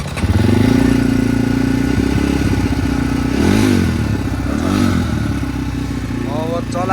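A 2024 EFI motorcycle engine runs steadily and close by for the whole stretch, its low even drone holding under occasional clatter, with people talking over it.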